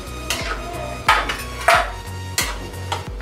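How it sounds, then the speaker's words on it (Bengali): Metal pot and lid clanking as a cooking pot is covered for boiling potol chingri, several sharp clinks and clatters spaced across a few seconds over a steady low hum, close and alone. "এবার আমি এটা একটু ঢাকা দিয়ে দেবো সিদ্ধ করার জন্য।"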